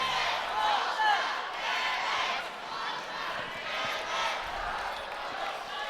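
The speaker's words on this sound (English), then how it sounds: "some cheering going on back and forth between both teams" Cheerleaders and fans of Bigfork and Malta trade cheers at a state basketball tournament game, a steady wash of crowd voices filling a gym with rising and falling swells.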